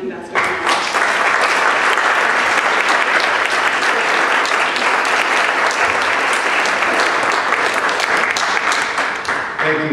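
An audience breaks into loud, sustained applause welcoming Ambassador William Kennard at a lunch event in Charleston, dense clapping that starts abruptly and continues at full strength.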